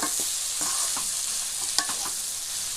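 Bitter gourd stir-frying in a pan with dry and green chillies, a steady close sizzle broken by scrapes and taps of the spatula as the pieces are tossed and mixed, no voices.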